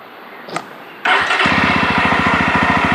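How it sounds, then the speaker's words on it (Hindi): A Jawa Roadster motorcycle engine cranks and catches, then settles into a loud, even, rapid thumping idle right up close. "चालू हो गई बाइक।"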